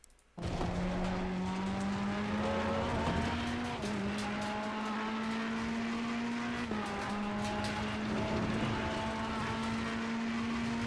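Ferrari EVO GT3 race car in Assetto Corsa Competizione at Mount Panorama: a loud, steady engine drone that climbs in pitch through the gears, with short dips at each shift and a faint squeal of tyres, no voices.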